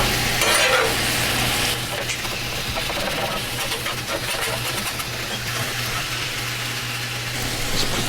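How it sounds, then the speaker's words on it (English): Onions sizzling on a griddle for cheesesteak while being stirred and scraped with a spatula, a continuous close frying hiss with a steady low hum underneath, no talk. "Mixing these onions."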